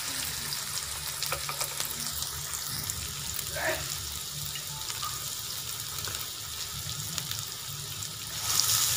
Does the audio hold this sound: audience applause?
no